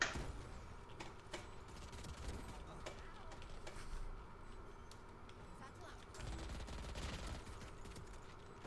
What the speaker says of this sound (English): we're shooting, we're throwing our nade